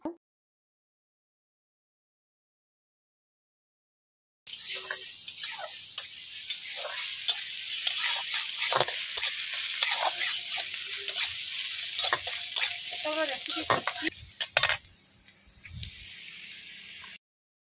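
Chopped onion frying in oil with spices starts after a few seconds of silence, then sizzles steadily and close with clicks and stirring scrapes before it quiets toward the end.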